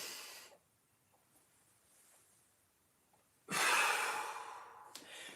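A deep breath during a mobility workout's breathing exercise: a short exhale rush, a quiet pause, then a long, loud, airy breath close to the mic lasting over a second, with no talking.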